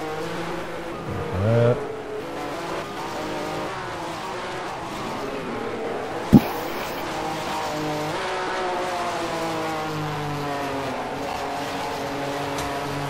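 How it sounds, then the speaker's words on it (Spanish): A Porsche race car in the racing game GT Legends holds a steady engine drone with shifting pitch, a brief sharp knock midway, and a short tire squeal early on, while someone says a few words. "¿Cómo suena ese Porsche?"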